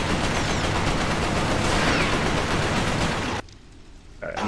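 Gunfire in the video game Resistance: Fall of Man, a dense, continuous stream of rapid shots at steady loudness that cuts off abruptly near the end, leaving a brief quieter tail.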